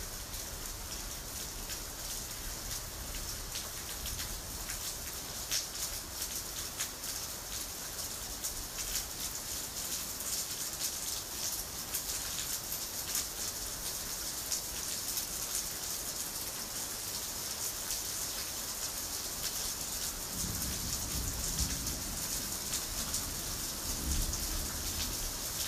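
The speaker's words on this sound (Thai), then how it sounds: "ฝนตกลงมาอีกดิเดี๋ยวจะเล่นให้ดู" Rain falls steadily, a continuous broad patter and hiss that stays loud and even throughout, with a slightly heavier low rumble near the end.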